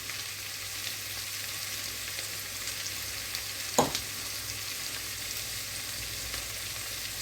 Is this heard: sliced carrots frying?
yes